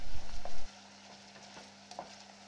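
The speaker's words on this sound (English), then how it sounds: "pour in the onion and garlic mixture. Stir this for 5 minutes in order to soften the onions but not burn the garlic." Onion and garlic mixture frying in an oiled pan, with a soft steady sizzle and occasional spoon scrapes as it is stirred, a louder clatter at the start.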